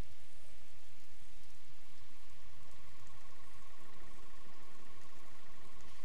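Steady rain falling in Zelda: Breath of the Wild on Wii U, a constant hissing patter with a faint tonal hum beneath, even and unbroken throughout.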